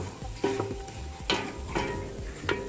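Shallot, ginger and galangal spice paste frying in a pot, a steady close sizzle with a few scraping stirs of a spoon against the bottom.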